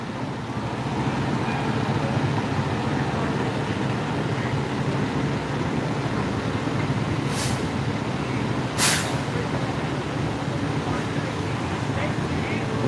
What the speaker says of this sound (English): You can definitely tell, like, the newer fire trucks from the old fire trucks.